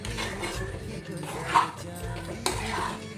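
Metal spoon clinks and scrapes against a pan as sugar is stirred into a sweet mixture, quick irregular knocks close by, under a speaking voice.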